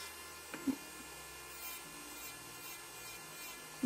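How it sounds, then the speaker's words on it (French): An electric nail sander files nails during a Babyboomer manicure, a steady faint whirring rasp running throughout with small bumps as the tool touches the nail; close, quiet, no talk. "Je trouve que c'est vraiment une super technique d'utiliser la ponceuse"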